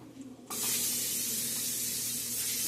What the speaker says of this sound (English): And I'm going to spray the sheet pan down.